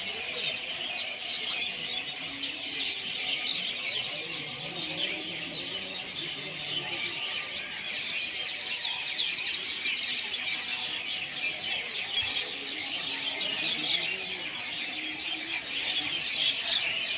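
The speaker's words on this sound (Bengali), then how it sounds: "পাখিরা তাদের নীরব ফিরছে, আর তাদের কলরব শোনা যাচ্ছে এই গাছগুলোতে" Many birds chirp and call from the trees at dusk beside a railway platform, a steady dense chorus of high twitters layered over faint low background hum, continuous throughout.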